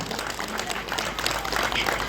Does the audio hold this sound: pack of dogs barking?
no